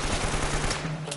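Grenade launcher gunfire in Uncharted: Drake's Fortune, a loud, dense burst of rapid repeated blasts lasting about a second.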